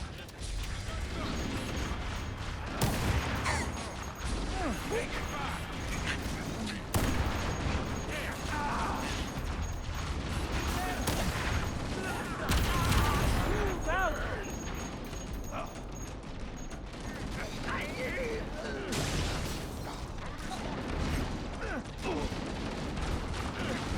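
Gunfire and combat in the video game Halo: Campaign Evolved, a dense, continuous barrage of shots, impacts and mechanical clatter filling the whole stretch, with game voices shouting over the battle.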